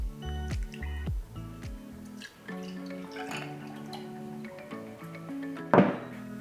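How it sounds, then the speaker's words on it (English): Peach schnapps being poured over ice for a Red Bull cocktail, giving a short run of liquid glugs and drips into the glass followed by a brief clink of ice, close and fairly quiet, no talking. "One and a half ounces of peach schnapps."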